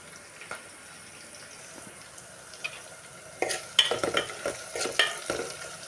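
Onions frying in a pan on a home stove for a Telugu family meal, a low steady sizzle with sharper scraping stirs of a spatula crowding in during the second half.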